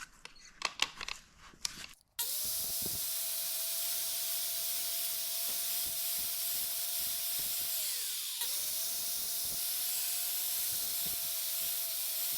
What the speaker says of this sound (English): I have some Never Sees and I'm going to apply it liberally to a bunch of this stuff